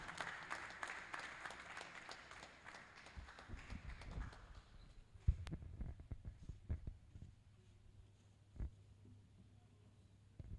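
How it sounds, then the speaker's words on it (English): Applause from the audience at an annual conference and investiture ceremony, a dense wash of clapping that thins out over several seconds into scattered claps and room noise. "Please a round of applause for him."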